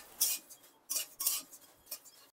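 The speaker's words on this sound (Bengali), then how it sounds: "প্রথমে আমি খইগুলোকে ভালো করে ভেজে নেব" Puffed rice (khoi) dry-roasting in a pan gives a few short, bright scraping and rattling bursts, like a spoon dragged through loose grains against metal, in a quiet village kitchen.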